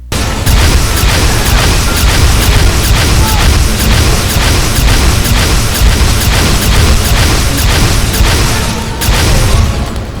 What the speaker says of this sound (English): Just literally the Halo rocket launcher.